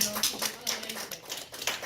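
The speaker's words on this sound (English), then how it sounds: "Give yourselves a round of applause." Students in a classroom clap for one another, a short round of applause with rapid, dense hand claps throughout.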